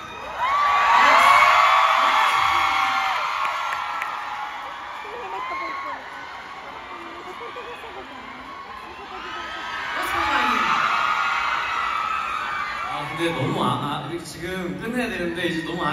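A crowd of fans cheers loudly at a farewell fan meeting, with high whoops and shrieks swelling and fading in waves, and voices talking and shouting among them.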